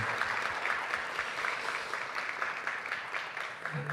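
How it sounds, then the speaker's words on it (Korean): A church congregation applauds steadily during a Sunday service, a dense wash of clapping that carries on throughout with no pause. "하나님께 영광의 박수 올려드리겠습니다"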